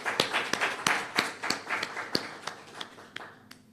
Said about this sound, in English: I'm just going to ask us to clap ourselves.